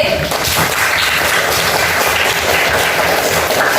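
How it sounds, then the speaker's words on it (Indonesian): Classmates applaud group D in a school lesson, a loud, continuous burst of clapping from many hands with no pauses. "Tepuk tangan buat kelompok D"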